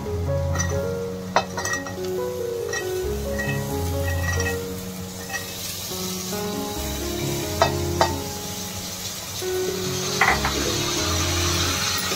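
Vegetables go into masale bhat in a pan and sizzle with a steady hiss, with occasional clinks of a utensil against the pan, while low tonal background sounds run underneath and nobody speaks.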